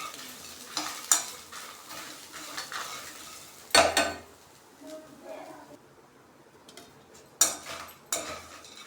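Spices being roasted in a dry pan for bangude (mackerel) fish curry: soft scraping stirs and occasional sharp clinks of a spatula against the pan, fairly close and quiet.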